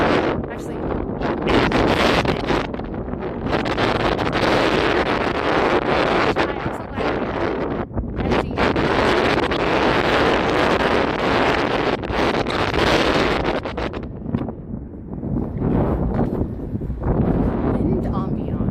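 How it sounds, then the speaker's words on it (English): Strong gusty wind buffets the microphone during a springtime cherry blossom walk in Washington DC, a loud continuous roar with surges and brief lulls throughout. "Wind ambiance."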